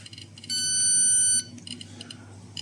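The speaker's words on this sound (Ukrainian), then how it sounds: "Чуємо, яка гучна, дуже гучна сигналізація." A smoke detector held near a gamma radiation source blares a loud, steady high-pitched alarm tone for about a second, then cuts off, leaving quieter intermittent beeping over low background hum.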